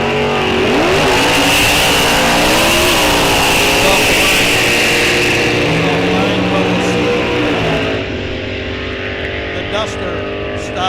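Wheel-standing super stock drag cars, including a four-speed Corvette and a Duster, launching at Rock Falls Raceway with loud roaring engines that rise in pitch through the gears, then ease off toward the end, over an announcer's voice.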